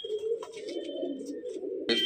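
Pigeons being handed over to a buyer coo in soft, repeated rolling calls, close by and fairly clear, ending with a brief burst of handling noise.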